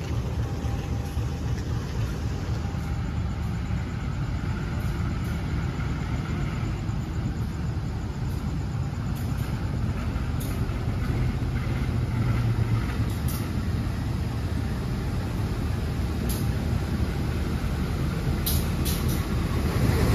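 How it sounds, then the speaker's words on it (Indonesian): Bengawan passenger train from Solo and Jogja to Pasar Senen passing close alongside a halted Motis Lebaran train, a steady loud low rumble of rolling wagons and wheels with faint metallic clicks, continuous for the whole stretch without talk. "Kita kena susul sama kereta api Bengawan, teman-teman."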